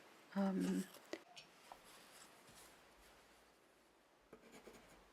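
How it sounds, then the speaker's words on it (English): Pen scratching on paper, close and quiet, with brief strokes and soft taps over a low hiss, after a short spoken word at the start. "Wait, let me write it for you."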